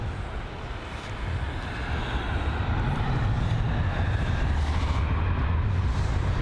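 Eurowings Airbus A320-200 departing runway 27 left at London Heathrow, a broad distant jet roar that swells and holds steady, low rumble under airy noise, with no talking.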